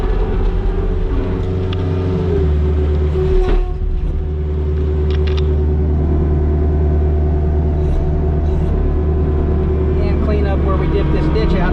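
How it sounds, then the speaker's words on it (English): A skid steer loader scooping dirt into a dump truck runs loud and steady nearby, its diesel drone holding throughout with hydraulic whine and scraping clatter rising over it. "Kind of hard to run this skid steer with one hand"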